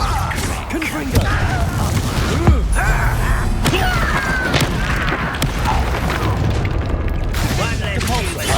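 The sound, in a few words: Confringo spell cast in Hogwarts Legacy video game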